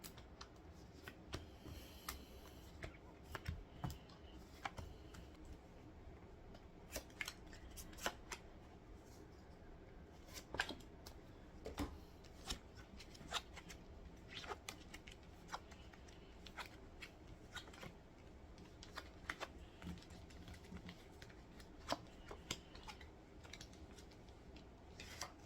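Tarot cards being shuffled and drawn by hand, a quiet, continuous run of soft riffles, flicks and card snaps with no talking.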